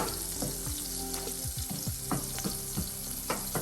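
Vegan wings with an agave, jalapeño and lime recipe sauté in a hot pan, a steady close sizzle broken by repeated knocks and scrapes of a stirring utensil.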